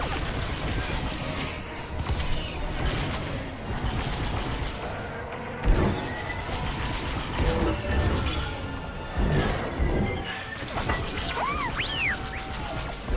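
Starfighter weapons fire in Star Wars: Squadrons, steady rattling bursts of laser shots and impacts amid engine noise during a dogfight, with occasional whooshing passes and faint voices in the background.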